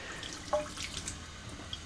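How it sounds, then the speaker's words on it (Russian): Water trickles and gurgles as a pump pushes it into an RV's water line, a soft, irregular liquid sound with a brief splash near the middle. "Мы включили насос. Вода начинает поддаваться в магистраль."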